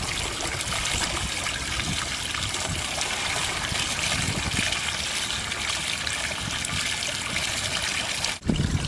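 Water trickles and pours steadily out of the hull of a JetSurf motorized surfboard as it is tipped upright, a close, continuous dribbling stream ending with a brief knock.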